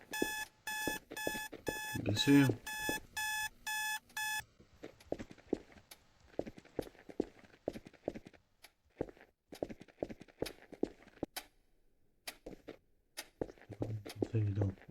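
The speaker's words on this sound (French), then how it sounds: "Je devrais éteindre l'alarme." An alarm clock in a video game rings with rapid repeated electronic beeps for a few seconds, then stops, followed by clicks and soft footstep-like taps while someone speaks briefly.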